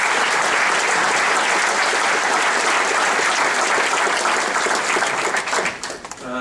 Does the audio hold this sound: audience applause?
yes